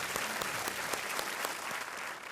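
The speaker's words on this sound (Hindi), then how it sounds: "तालियों के साथ इनका अभिनंदन किया जाए।" Studio audience on a TV quiz show bursts into steady, dense applause, many hands clapping continuously at moderate volume with no voices over it.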